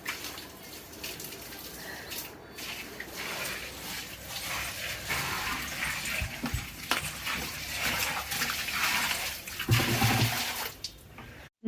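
Water pours and splashes continuously while a green-algae-coated water tank is scrubbed, with scraping and sloshing rising and falling, fairly close and steady, no voices.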